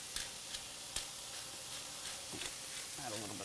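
Turkey bacon sizzles in a pan with a faint, steady crackle, broken by a few light clicks and stirring taps, and a voice comes in near the end.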